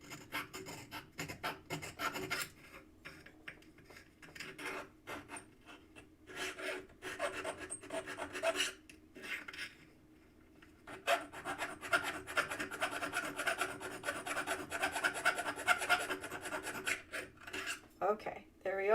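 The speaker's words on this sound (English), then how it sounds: "Sorry for the filing noise here. I know it's not a pleasant noise." Metal being worked with a hand file, giving long rasping strokes in bursts with brief pauses between them. The filing grows louder and more continuous toward the end and is heard up close without speech.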